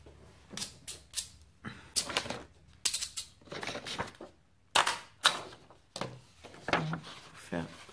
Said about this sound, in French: On voit que les ciseaux ils marchent même pas.